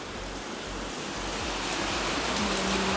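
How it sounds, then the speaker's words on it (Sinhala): Heavy rain pouring down steadily, a dense, loud, unbroken hiss of drops on surfaces that holds constant throughout, with no voices. "වා වැහිලා ඔක්කොම හොඳටම වහිනවා."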